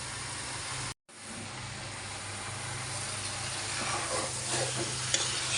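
Beef sizzles loudly in a hot pan while being stirred with cumin for a beef and jackfruit curry, a steady close frying hiss broken by a brief cut near the start.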